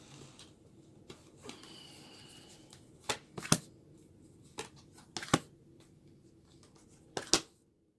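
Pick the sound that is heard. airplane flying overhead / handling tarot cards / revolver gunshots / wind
handling tarot cards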